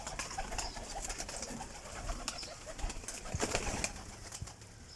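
Pigeons cooing close by in a loft, soft repeated low coos layered over one another with light rustling and no talking.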